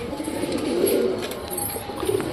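Pigeon cooing from a rooftop loft among pet pigeons, soft repeated low coos against a quiet background, no talk.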